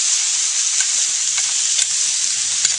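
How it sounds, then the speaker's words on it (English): Bacon and mushrooms sauté in a hot pan with a steady, close hiss of frying fat and faint crackles and pops, no voices. "I'm going to saute those up"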